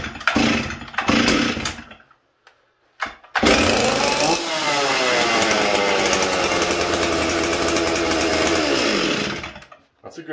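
A Stihl 044 Arctic chainsaw is pulled over a few times with sharp rough bursts, then fires up and runs loud and close, its engine revving up and settling into a steady high roar for several seconds before cutting off.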